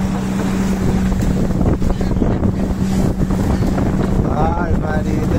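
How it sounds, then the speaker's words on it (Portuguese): Strong gusting wind buffets a microphone aboard a shrimp trawling boat at sea, a steady roaring rush with a low engine drone underneath, while someone talks and shouts over it. "É pé de vento, hein?"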